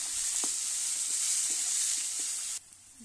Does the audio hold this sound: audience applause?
no